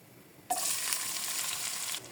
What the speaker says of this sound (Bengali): শুকনো মরিচ কিছুক্ষণ ভেজে নিয়ে দিয়ে দিলাম এক কাপ পেঁয়াজ কুচি